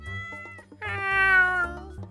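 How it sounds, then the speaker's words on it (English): A cat in the Stardew Valley farming game gives two short meows and then a longer drawn-out one, clear and close against a quiet background. "Would you like to adopt this cat?"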